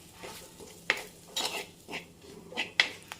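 Fish curry masala being stirred in a pan, with a spoon scraping and clinking against the metal in several distinct strokes, close and fairly quiet, with no talking.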